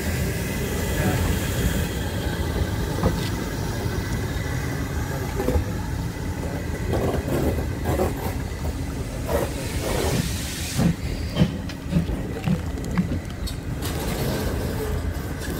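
A diesel train on the Watercress Line rumbles steadily at a distance while running round, with low engine drone and occasional rail clanks, no talk.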